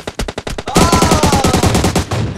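Rapid automatic gunfire in fast, even bursts, loud and close, with a short pause before a long sustained volley, in PUBG Mobile.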